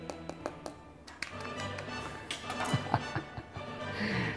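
Crackling skin of a roast suckling pig tapped with a utensil, producing a series of quick, crisp knocks and dry crunches at close range, with faint kitchen noise underneath.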